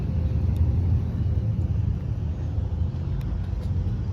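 White Nissan Altima driving along a road, a steady low engine and tire rumble close inside the cabin with no talking.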